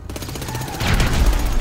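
Rapid gunfire in GTA V Online, a quick chattering burst of repeated shots that swells louder in the second half, close and harsh with no voices.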